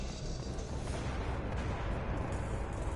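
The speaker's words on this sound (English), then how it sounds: "Hear a bunch of shooting going on somewhere." Distant gunfire rumbles in Mass Effect 2, a dense, muffled barrage of shooting and booms with no talking.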